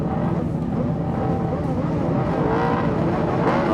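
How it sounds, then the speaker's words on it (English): Speedway motorcycles revving together at the start of a race, a dense, continuous engine roar with rising rev surges, loud and close, with a commentator's voice partly under it. "Right, we get the revs up, and the tapes are up, we're underway."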